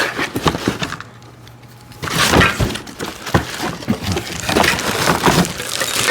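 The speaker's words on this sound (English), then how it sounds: "here's another box that we gotta basically unwrap" Parts of a VEVOR mobile TV stand are pulled from cardboard packaging, giving loud crinkling, tearing and thumping bursts with a short quieter gap near the start, with no talking.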